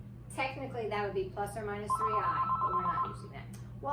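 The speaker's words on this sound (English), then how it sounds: "that's my phone. Perfect timing." A mobile phone rings with a steady electronic ringtone under a man's continuous speech, the tone sitting clearly above the voice for a second or so.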